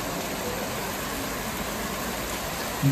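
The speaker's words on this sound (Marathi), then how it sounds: "खूप जोराचा पाऊस आहे." Heavy rain pours down on Diwali day, a dense, steady wash of noise that stays even for the whole stretch with no voice.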